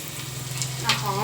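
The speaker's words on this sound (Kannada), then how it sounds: "ನೋಡು ಬೆಳ್ಳುಳ್ಳಿ ಹಾಕ್ ತಕ್ಷಣ ಹೆಂಗೆ ಅಮ್ಮನುತ್ತೆ" Garlic dropped into hot oil sizzles and crackles steadily at close range, a dense frying hiss with a brief brighter burst as it settles, while faint home-cooking sounds linger beneath.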